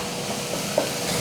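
Mushrooms and onions sizzle gently in a pan, with a soft scrape of a utensil stirring and a small knock near the end, close and moderately quiet with no talking.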